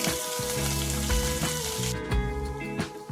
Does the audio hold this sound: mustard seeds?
yes